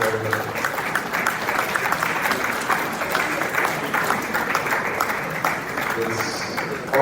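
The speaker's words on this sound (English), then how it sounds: "Please another round of applause for Dr. Vanguard." An audience at an economic discourse event applauds, broad steady clapping from a crowd with a faint voice murmuring beneath, continuing throughout at moderate level.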